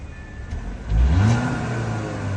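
A 2021 Audi A5 engine revs up on the throttle, rising sharply about a second in and then holding a strong, steady drone close by, with no talking.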